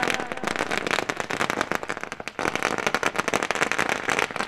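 Firecrackers and fireworks burst in a dense, continuous crackle of rapid sharp pops at a welcome ceremony for guests at a local event, loud and unbroken, with a brief dip partway through before the barrage resumes.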